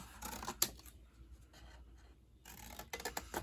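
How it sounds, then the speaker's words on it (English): Scissors cutting card stock for a Stampin' Up! Traditions of St. Nick gift box, a sharp snip near the start followed by quieter sliding cuts and a flurry of snips toward the end, close and without talk. "Now, while we're cutting, I'm going to actually switch scissors now."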